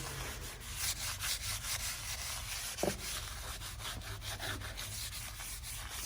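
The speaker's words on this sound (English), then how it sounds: "So I've rubbed CLR everywhere." A cloth rubs CLR cleaner over a 30-year-old chrome exhaust tip with soft, steady back-and-forth scrubbing, faint and close, with a small knock midway.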